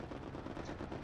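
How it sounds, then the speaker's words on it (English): Aircraft strafing gunfire in the Hell Let Loose video game, a dense, continuous burst of rapid shots and rumbling impacts filling the whole moment at steady loudness, with no talk. "Ooh, strafe."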